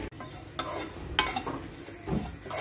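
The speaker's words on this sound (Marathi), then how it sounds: "ह्याला मी आता भाजून घेत आहे" Flaxseeds roast in a dry pan, a faint crackle beneath scraping and stirring with a few light clinks of a spoon against the metal, close and unaccompanied by speech.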